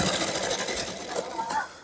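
A sewing machine stitches the pocket front of a shirt, giving a brief, rapid mechanical chatter close by, with someone talking over it.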